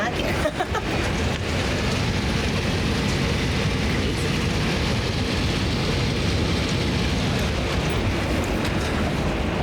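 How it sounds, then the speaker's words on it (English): Hail drums outside during a summer storm, a constant loud rattling roar that fills the whole stretch, with a voice talking over it. "we got a hailstorm going on"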